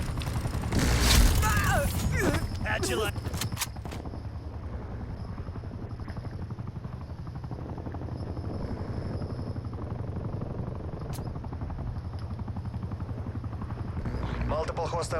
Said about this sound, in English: Hostile spy plane established overhead.